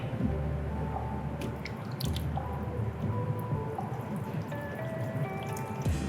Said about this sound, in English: Pour the bucket through the screen.